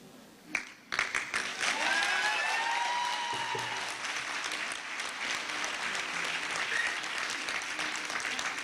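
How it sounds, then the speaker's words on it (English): Sustained applause from a large crowd at a university graduation ceremony, beginning with a few claps and quickly swelling into steady, dense clapping that holds for several seconds in a spacious hall. "Please join me in giving them a round of applause"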